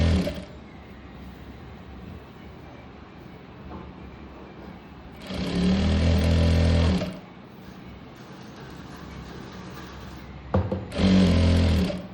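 An electric sewing machine stitching an umbrella frock at half-inch seam, two loud close bursts of motor whir with needle chatter, separated by a quieter pause of handling the fabric.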